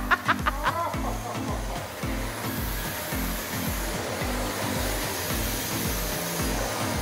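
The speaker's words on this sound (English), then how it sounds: "There's Tony vacuuming." Vacuum cleaner running over thick, higher-end new carpet in a barndominium loft, a steady motor drone with rhythmic pushing strokes throughout, fairly close.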